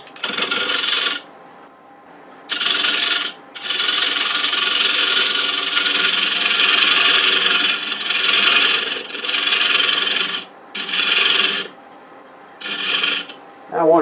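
A woodturning tool making a light cut on a wooden picture frame spinning on a lathe: a bright scraping hiss in repeated bursts of several seconds, separated by brief pauses, close and steady.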